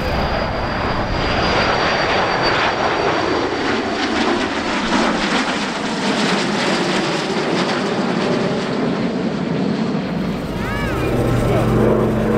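A fixed-wing aircraft flies over the Biggin Hill Festival of Flight air show in 2019, its loud engine roar broad and continuous throughout, rising and falling slightly as it passes, with crowd and wind noise underneath.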